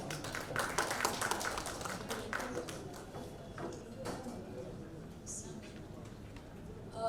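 Applause at the trailer launch of the Marathi film Raada, crisp and busy at first, then thinning into scattered claps and fading under the murmur of the room.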